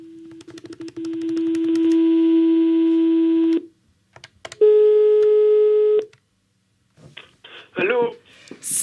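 A telephone call being placed, with a long steady line tone, a brief gap, a second higher tone, then chirpy warbling sounds and a voice at the end.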